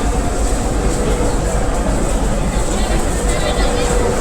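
A loud, continuous train rumble as a train arrives at a platform at Kamalapur station in the morning, filling the space with steady mechanical roar, while indistinct passenger voices murmur faintly underneath.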